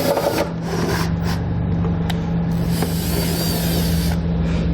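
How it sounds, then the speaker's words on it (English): A self-tapping screw being driven with a 5/16 nut driver into the firewall of a 2016 GMC Sierra truck, heard as a steady motor hum under continuous grinding and scraping of metal, with a few sharp clicks along the way. "I'm going to use a 5/16 nut driver to put in the self-tapping screw."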